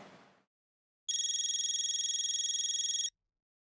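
A telephone rings in an electronic trill for about two seconds after a short burst of noise and a pause, loud and close with nothing else under it.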